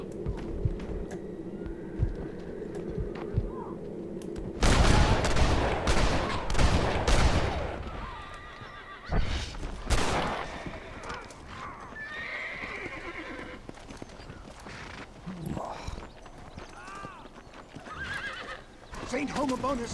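A horse in Red Dead Redemption whinnies loudly and gallops with clip-clopping hooves near Fort Mercer, while bursts of gunfire crack around it and a voice speaks over the action.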